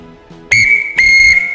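A Scout whistle signals the Morse letter A: a shorter blast, then a longer sustained shrill blast, loud and close, with no talking.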